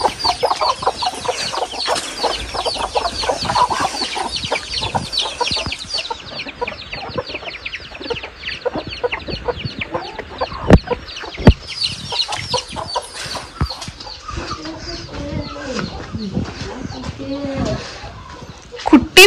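Hen clucking near her chicks at a village farmyard on a forest edge, loud repeated clucks amid busy chatter of people talking throughout.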